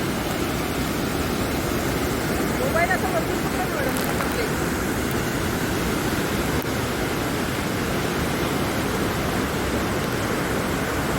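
Monsoon water pours steadily at Kondgaon dam near Khopoli, a constant broadband roar that fills the whole scene, with a brief faint voice partway through.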